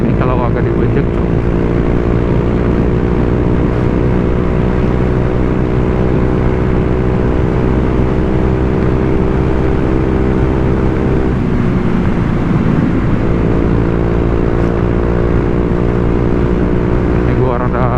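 A Honda Vario 125 scooter with a cheap aftermarket racing exhaust drones steadily up close under sustained throttle, with a brief dip and recovery in revs partway through and a rider's voice faint beneath it.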